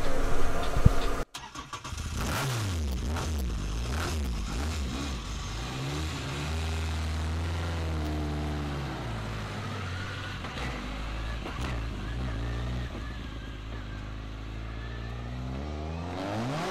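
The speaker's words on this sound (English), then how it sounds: "So Jimmy has invited me for a last ride in Colin's Escort" A Ford Escort rally car's engine cranks and fires up, then revs and pulls away, rising and falling through the gears in a loud, close engine drone from inside the car.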